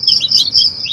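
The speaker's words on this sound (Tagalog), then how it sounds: "Ayan po yung sisiw nila, no." Chicks of a Dumpo Malay cross gamefowl brood give continuous high, thin peeping chirps, several overlapping in quick succession, close and fairly loud with no talking.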